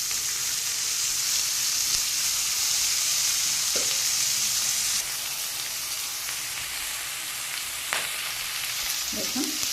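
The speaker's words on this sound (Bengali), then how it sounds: "দেখুন শাকটা দিয়ে এবার নাড়াচাড়া করে দেবো, ভালো করে নাড়তে হবে।" Khesari greens and beans frying in a pan while being stirred, a steady loud sizzle running throughout with occasional scraping clinks of the spoon.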